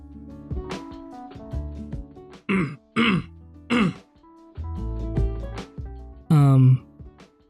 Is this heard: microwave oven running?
no